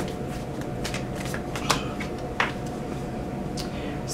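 Oracle cards being shuffled close by, a continuous papery riffling with soft slaps and a couple of sharper card snaps, steady and moderately quiet with no talking.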